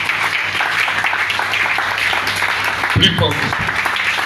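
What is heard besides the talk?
congregation applauding in church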